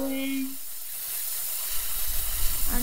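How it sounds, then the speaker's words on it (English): A steam engine in a railway video game lets out a steady, broad hiss that swells louder toward the end, with a short tonal blip at the start and another near the close. "the steam engine's gonna bring us there."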